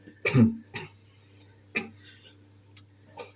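A few short, sharp coughs near the microphone, the first loudest, followed by softer isolated bursts with quiet pauses between them.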